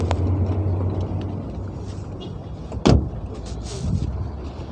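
A white 1991 Volkswagen Passat B3 at an outdoor car market, with one sharp door slam in the middle over steady background noise and a softer thud near the end.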